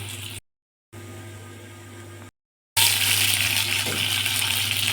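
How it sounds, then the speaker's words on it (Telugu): Garlic and ginger sizzle in hot oil over a high flame, a broad hissing fry that cuts in and out before surging loud and steady. "ఇవన్నీ హై ఫ్లేమ్ మీదనే వేసుకున్నాలండి. ఫటాఫట్ అన్నీ వేపుకోవాలా."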